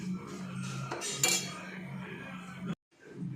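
A lid is set onto a pot of ribbonfish curry simmering in coconut milk, giving a sharp metallic clink amid soft kitchen clatter, followed by a brief drop to silence.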